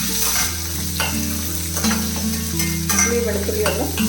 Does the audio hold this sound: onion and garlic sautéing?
yes